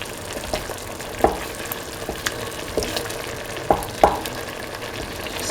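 Eggs fry in a pan with a soft, constant sizzle, broken by a few sharp clicks and light scrapes of a utensil against the pan.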